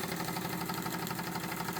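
A Wilesco D24 toy steam engine runs steadily, giving off a continuous hissing, chuffing drone with a fast even rhythm, close and fairly quiet, with no voices.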